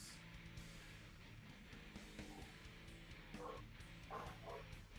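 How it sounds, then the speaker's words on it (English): A dog barks and yelps in bursts from upstairs, muffled and somewhat distant, under a steady background hum. "There's a dog losing her shit upstairs."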